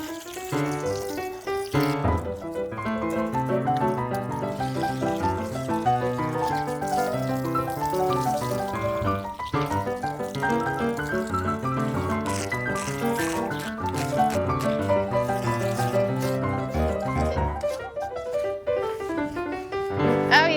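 Hose spraying water during a horse's bath at a horse shelter, a continuous close hiss and splashing that runs steadily throughout, with a voice over it.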